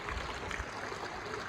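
Rainwater pours steadily from a roof into buckets set out during a downpour on a farm, making a continuous broadband splashing rush with no pauses and no voices.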